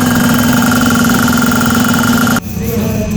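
Air compressor motor running loud and steady with a strong hum while pumping air, then cutting off abruptly as it shuts down, leaving a quieter hissing background.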